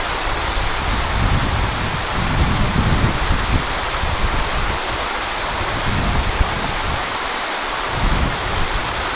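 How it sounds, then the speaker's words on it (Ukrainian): Continuous rushing water from a river fills the scene, a steady loud wash like a mountain stream flowing over stones, with no voices. "Так приємно послухати оцей шелест води"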